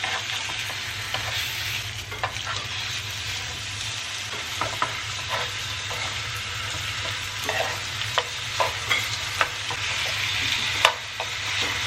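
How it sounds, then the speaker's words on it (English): Two large lamb chops frying in a little oil in a home kitchen pan, a steady close sizzle with intermittent pops and spatters, no talking. "puts a little bit of oil in the pan and then puts in the lamb chops"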